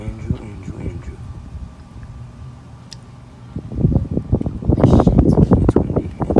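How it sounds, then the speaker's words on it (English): Strong outdoor wind gusting against the microphone, rumbling low and building louder toward the end, with a person talking briefly early on. "It's windy."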